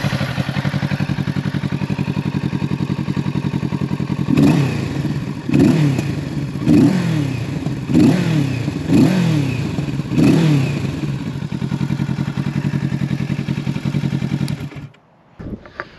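A Kawasaki Ninja 650 with an aftermarket Akrapovic exhaust idles with a throaty rumble, then is revved five times in quick bursts before the engine cuts off abruptly.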